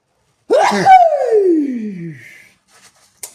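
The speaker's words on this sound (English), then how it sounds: "That was a sneeze." A single loud sneeze bursts out, trailing into a long falling vocal tone, followed by quiet and a faint click at the end.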